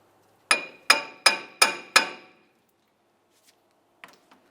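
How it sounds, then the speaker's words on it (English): Five sharp metallic hammer blows ring out in an even rhythm as a wheel bearing is knocked free from the steering knuckle of a 1999-2002 Lincoln Navigator, each strike decaying quickly, followed by a few faint clinks. "We're going to carefully use this to break the wheel bearing free from the knuckle."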